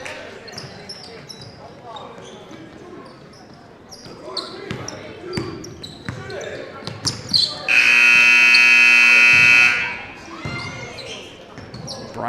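Loud, sustained electronic buzzer ending a boys high school basketball game, cutting in for about two seconds over crowd noise, ball bounces and a commentator's voice.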